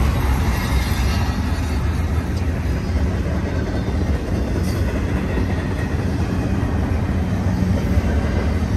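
A BNSF train rumbles steadily past at close range at a rail yard in Colton, California, a continuous heavy roar of rolling wheels with faint rail clatter and no pauses.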